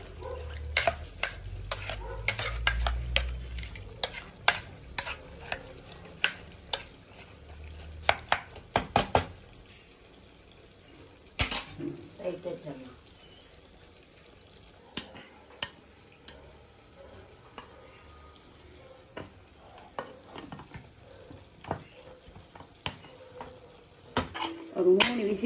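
Moong dal and banana stem are stirred in a pot with a spoon, giving a cluster of scraping and clattering strikes early on, then sparser knocks and clinks.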